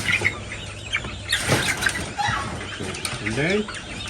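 Fighting roosters, game fowl on a farm, give clucks, crowing calls and wing flaps in a scuffle, with someone talking over the birds throughout.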